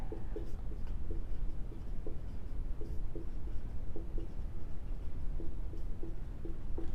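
Pen writing out a maths proof on paper, a steady scratching with short repeated strokes close to the microphone, no voices.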